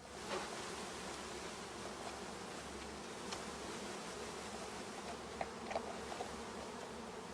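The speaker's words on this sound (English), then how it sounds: "I'm going to shake the bees in" A dense, steady buzzing of many honeybees being shaken from a package into a hive, faint and continuous, with a few soft knocks and rustles mixed in.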